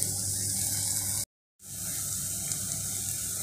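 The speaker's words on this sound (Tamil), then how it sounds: "காலிஃப்ளவரை சுத்தண்ணியில் வேக வச்சு எடுத்து பச்சை தண்ணியில் ஊற்றி அலசி ஒரு வாட்டி எடுக்கணும்." Boiled cauliflower is rinsed in cold water, giving a steady rushing pour from a tap into a sink that cuts out abruptly for a moment, then resumes.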